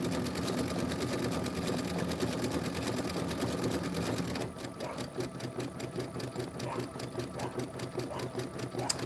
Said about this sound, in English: I'm going to stitch this whole thing to completion.